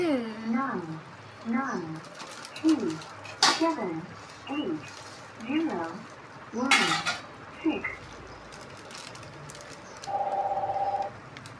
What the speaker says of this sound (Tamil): அதுக்கப்புறம் நம்ம வெட்டி வச்சுக்கிற வெண்டை இது வெண்டைக்காவை போடலாம்